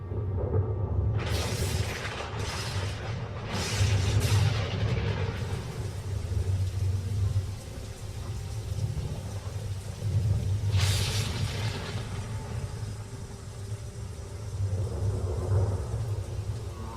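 Distant storm rumble before the monsoon rain rolls low and continuous beneath steady wind noise, with a few brief, brighter gusts or crackles swelling in and fading.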